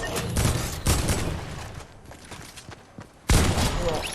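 Shotgun blasts in the Fortnite video game, a few sharp loud bursts, one near the start and a heavier one toward the end, set among game noise.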